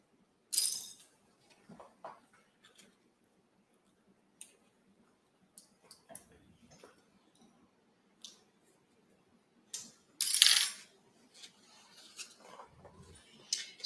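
Sparse, quiet clicks and snaps as sewing clips are pulled off a foam-lined crossbody bag, scattered irregular bursts with a few sharper louder snaps and near silence between them.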